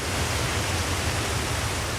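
Steady, dense roar of a waterfall, a continuous broadband rushing wash with no breaks and no voices, moderately loud throughout.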